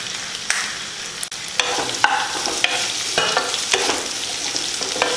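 Radish and tamarind being sautéed in a pan for radish chutney, with a steady sizzle and repeated scraping stirs of a spoon across the pan, fairly close and with no talking.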